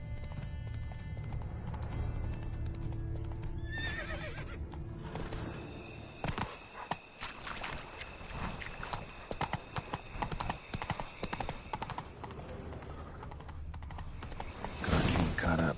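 Hooves clip-clop steadily and a horse whinnies in The Witcher 3 video game near a wagon gone off the road, with a brief clatter and voices talking over the scene.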